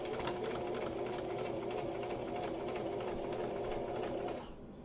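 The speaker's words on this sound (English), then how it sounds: "I'm going to do a few stitches, and then I'm going to back stitch." A sewing machine runs steadily and close, stitching and back-stitching fabric for a bag holder with a fast, even mechanical whir that stops just before the end.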